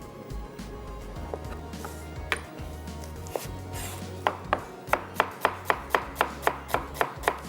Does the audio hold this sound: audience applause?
no